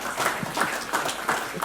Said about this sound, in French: s'il vous plaît, applaudissez quand même